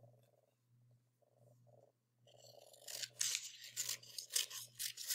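Scissors cut out a paper compass handout, a quiet tone and soft handling first, then several loud, close rasping snips of paper in quick succession.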